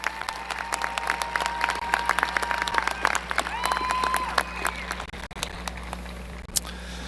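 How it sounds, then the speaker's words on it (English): Applause at a 2023 high school commencement ceremony, with a crowd clapping steadily and densely throughout, some cheering and whistles rising near the middle, then thinning toward the end. "Let's give a big another round of applause for Gabby and Carly."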